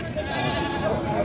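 Goats bleating among a crowd at a cattle and livestock trading market, with steady overlapping animal calls and voices of people talking throughout.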